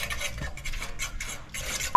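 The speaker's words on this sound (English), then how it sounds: "You throw in the curry and just take time and stir it on and make sure so you know it don't burn" Curry goat being stirred in hot oil in a pot, a spoon scraping and knocking steadily against the metal over a faint sizzle, close and continuous for about two seconds with no talking.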